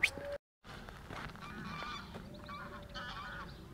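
Geese honk intermittently at a distance after a brief dropout, with a low rumble of background noise underneath.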